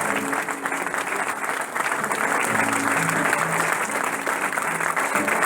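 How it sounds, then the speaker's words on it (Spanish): Church congregation applauding at a revival congress, a full, steady wash of clapping with some voices and a few sung or spoken tones underneath. "¿Quiere dar un mejor aplauso?"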